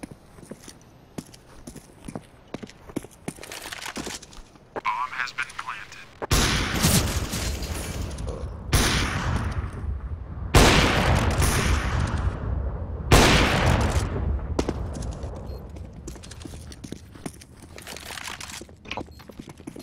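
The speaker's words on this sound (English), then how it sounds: "Deploying flashbang." Flashbang and grenade blasts in Counter-Strike: Global Offensive: several loud, broad explosions a few seconds apart, with scattered footsteps and gunshots between them and no talking.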